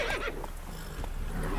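Roach, the horse in The Witcher 3: Wild Hunt, lets out a loud, close whinny over clip-clopping hooves and steady game ambience.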